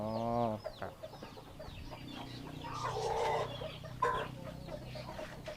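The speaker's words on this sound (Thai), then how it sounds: "โอ้ไก่่ยังหนุ่ม ๆกำลังสวยนะ" Young roosters on a farm cluck and call in a lively, overlapping stream of short squawks and throaty clucks, fairly close and continuous throughout.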